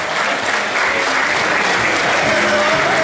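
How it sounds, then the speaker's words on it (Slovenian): An audience applauds at the opening ceremony of the 2014 Gregorjev sejem fair, giving a dense, steady, close burst of clapping that holds at full strength for the whole stretch. "Zaploskajmo"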